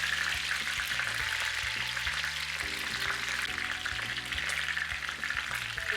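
Pork ribs fry in a pan for stewing, giving a steady close sizzle and crackle with background music playing underneath and no talking.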